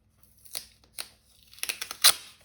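Several short, crisp ripping sounds of adhesive tape being pulled off the roll, ending in a louder tearing snap, close by and quiet otherwise.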